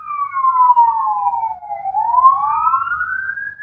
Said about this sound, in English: it's just the sirens that are distracting me